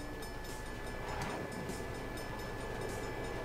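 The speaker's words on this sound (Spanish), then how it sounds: "hay trenes, qué bueno." Train rumbling past in The Crew racing game set in a small American town: a continuous low rolling drone with faint rail clatter and a brief rising whine, steady and fairly near, without speech.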